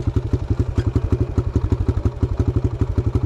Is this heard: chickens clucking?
no